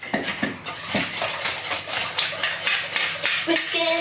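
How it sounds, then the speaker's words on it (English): A hand whisk beats egg in a bowl, giving a steady run of quick, close metallic taps and scrapes of moderate loudness, with a brief clink near the end. "I'll just hand whisk."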